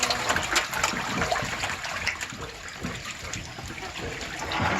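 Water splashing and churning in a tank of about sixty catfish as food is thrown in, a continuous close rush of sloshing and bubbling with brief splashes.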